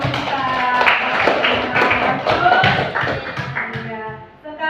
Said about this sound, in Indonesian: Tepuk semangat dulu untuk kita.